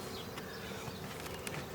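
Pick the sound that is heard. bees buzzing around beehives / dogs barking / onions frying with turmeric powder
bees buzzing around beehives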